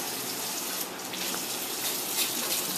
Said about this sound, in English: So I'm just going to wash off some of these carrots.